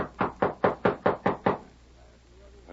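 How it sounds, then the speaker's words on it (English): Seven quick, firm knocks rap on a house door in an even rhythm, close and fairly loud, then fall away into a quiet room in an old radio western drama. "Knock on the door again."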